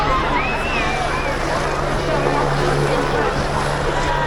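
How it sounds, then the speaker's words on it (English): Helicopter flying overhead, a steady low rotor drone with a higher engine whine layered above it, constant and fairly loud, while people talk nearby over the noise. "The chopper."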